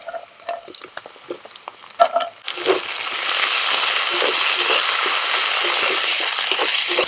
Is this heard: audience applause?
no